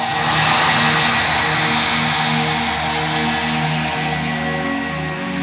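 A plane just landed from Asia at an Australian airport, its engines giving a loud, steady droning roar with layered hums close by, with no talking over it.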